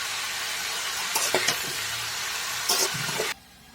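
Mixed vegetables fry with turmeric, cumin, chilli powder and meat masala in a steady close hiss, with a few clattering stirs, before the sizzle cuts off abruptly near the end.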